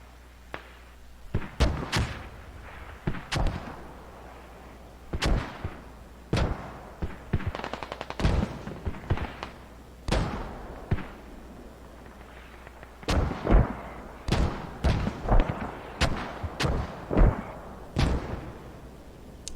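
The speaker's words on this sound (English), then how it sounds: "This hab area being mortared." Mortar rounds land in a multiplayer video game battle as a string of heavy booms and thuds, some near and sharp and others more distant, coming at irregular intervals.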